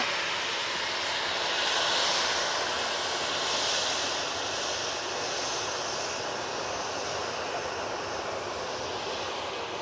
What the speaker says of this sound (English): Tui coming on